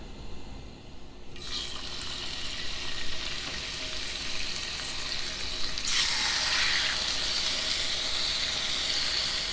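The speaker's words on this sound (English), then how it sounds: "while you're searing your meat" Meat searing in bacon grease in a pan turned up to medium-high heat, a steady close sizzle and crackle that suddenly grows louder and brighter partway through, with no talking.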